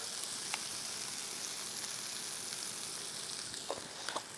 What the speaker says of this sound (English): I gotta get stirring this. A little bit of cumin seed.